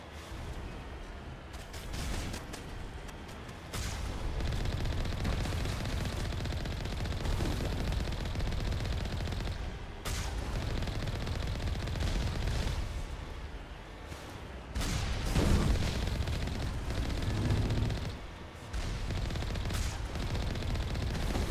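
Enemies fire weapons in the Mass Effect video game: dense, rapid, continuous shooting with short pauses, loud and close, mixed with rumbling impacts.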